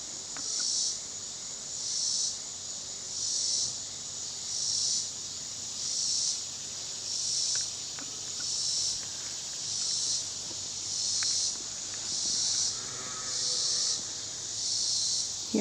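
Bees buzz among very tall, multi-headed sunflowers in a summer garden, a steady high insect drone pulsing in regular waves about every second, close and continuous with no talking.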